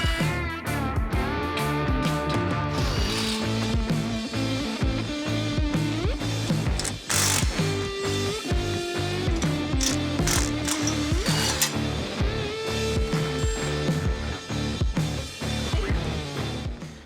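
Tools loosen and remove 17mm and 14mm bolts from the crash bar mounting point of a Lexus 570 bumper, producing steady close ratcheting clicks and metallic rattles throughout with no talking.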